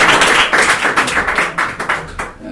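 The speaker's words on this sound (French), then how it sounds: "On l'applaudit, s'il vous plaît." Loud, close audience applause at a live conference talk, with dense clapping that runs the whole way through and swells in uneven waves.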